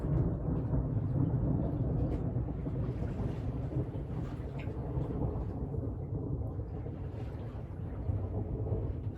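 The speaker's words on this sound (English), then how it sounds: "I'm hoping we get some wind out of this thunderstorm to push us along" Low rumbling thunder from a thunderstorm rolls steadily over wind noise while a sailboat is hand-steered offshore between Cape Henlopen and Sandy Hook, a continuous deep roar with no talk.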